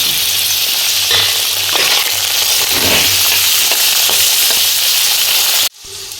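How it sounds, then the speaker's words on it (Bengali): Boiled bitter gourd frying with potato in a pan, a loud, dense, continuous sizzle close up with occasional stirring scrapes, cutting off abruptly near the end, no speech. "সেই উচ্ছেটাও আলুর সঙ্গে ভেজে নিচ্ছি"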